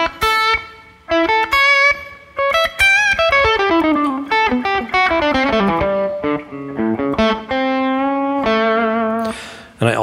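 An electric lead guitar improvises a blues line around chord tones, playing quick runs of single notes, bends and sustained held notes, loud and close with no talking.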